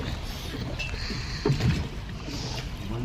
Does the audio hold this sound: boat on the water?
yes